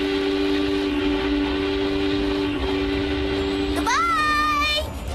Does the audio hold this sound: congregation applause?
no